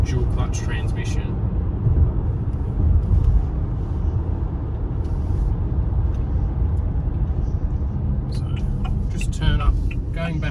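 A Haval H6 SUV with a dual clutch transmission cruises along a rural back road, giving a steady low rumble of road and engine noise inside the cabin, with a voice talking over it.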